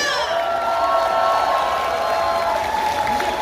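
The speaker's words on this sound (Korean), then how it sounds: "여러분 박수와 함성 보내주세요." Audience at the Punggi ginseng festival in Yeongju applauding and cheering for a performer, a steady wash of clapping and crowd noise that holds across the whole stretch without pause.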